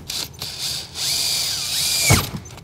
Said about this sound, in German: Und da bohren wir halt jetzt mal an.